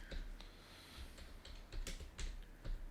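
Keystrokes on a computer keyboard tap in irregular clusters during a podcast recording, with steady low background hum and no talk over them.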